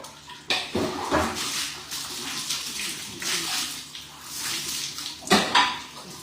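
A dipper pours water over a person during a bath, with several close splashing gushes in irregular bursts and water running and dripping in between.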